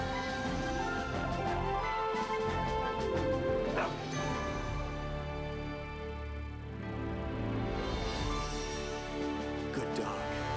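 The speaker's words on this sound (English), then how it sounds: "Good dog." A dog barks and yips repeatedly over dense background music in a hockey broadcast segment, the barks mid-distance and partly masked.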